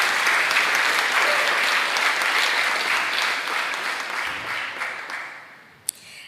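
Sustained applause from an audience at a Martin Luther King Jr. scholarship award ceremony, dense and steady for several seconds before tapering off near the end, with one sharp clap standing out.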